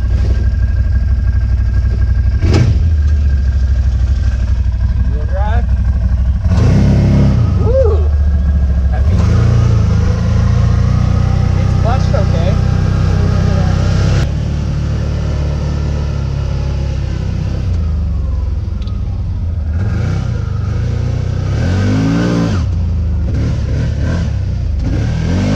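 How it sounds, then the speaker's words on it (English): A 2018 CFMOTO ZForce 1000 side-by-side drives on a test run, its engine loud and close as it revs, accelerates and drops back through gear changes, with a voice talking over it. "Let's take this CFMOTO ZForce 1000 for a test drive."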